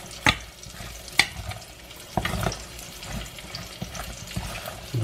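Bacon sizzles in a pan with a low crackling hiss, punctuated by a few sharp clinks and scrapes of a utensil against the pan, fairly quiet and close with no talk.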